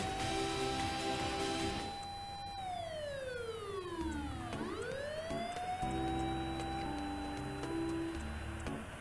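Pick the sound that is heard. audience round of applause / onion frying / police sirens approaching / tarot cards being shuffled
police sirens approaching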